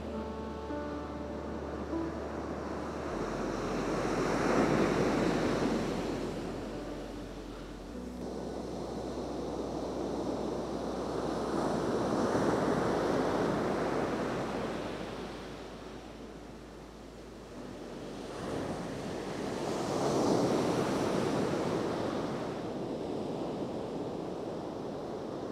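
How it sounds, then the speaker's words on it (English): Ocean waves from a set of swells break on a Cape Cod beach in winter, three broad surging washes of surf rising and fading in turn, with steady wind noise underneath. "Here comes a nice little set of swells."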